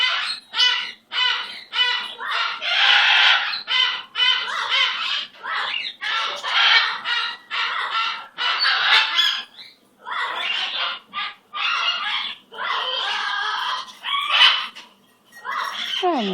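A pet bird squawks and chatters loudly at close range in rapid bursts with short pauses, keeping up a harsh, raspy stream of calls throughout.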